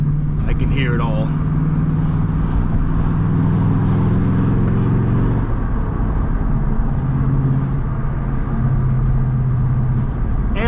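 A car engine with a muffler delete rumbles loudly from inside the cabin, its deep drone shifting as the driver downshifts, with someone talking over it throughout.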